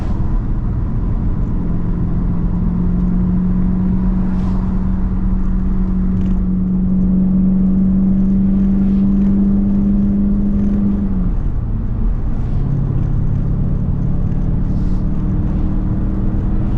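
Mercedes CLK550 with M273 V8 and manual swap, engine holding a steady raised rev for several seconds, then dropping and settling to a lower hum, close and continuous with no talk.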